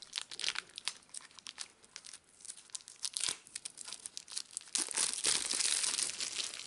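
Plastic wrap crinkles and tears as stacks of Shadows of Brimstone Forbidden Fortress board game cards are unwrapped. The crackling and ripping is continuous and close, growing louder and denser toward the end, with no talking.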